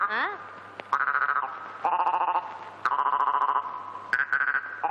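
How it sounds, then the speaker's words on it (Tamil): Frogs croak in rapid pulsing trains near a pond, the calls stopping and restarting in bursts over a steady low hum, with no talk over them. "என்ன கத்துது தவளைதான்"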